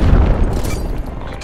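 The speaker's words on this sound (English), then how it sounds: "Throwing frag. Throwing grenade." A frag grenade detonates in Call of Duty: Cold War, a loud, heavy low boom that rolls on as a rumbling tail through the whole moment, with no other sounds over it.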